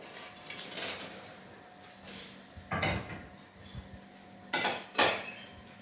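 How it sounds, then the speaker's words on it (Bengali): Rice and oil being stirred in a cooking pot for chicken mandi, giving scattered metallic scrapes and clinks of a utensil against the pot, with a few louder knocks near the end and no talk. "তেল দিয়ে আমি লেড়ে দিচ্ছি"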